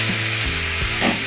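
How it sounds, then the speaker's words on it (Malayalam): Chopped tomatoes go into a hot pan and are stirred while cooking a Karnataka-style tomato curry, giving a steady loud sizzle with scraping stir sounds and no speech. "2 വലിയ തക്കാളി അരിഞ്ഞതും കൂടെ നമുക്ക് ചേർത്ത് കൊടുക്കാം."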